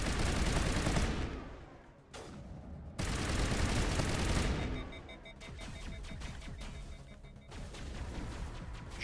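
Rapid gunfire with explosive rounds in the video game Mass Effect, dense bursts of crackling shots and blasts that cut off and resume, loud and close, with a busy game soundscape between volleys.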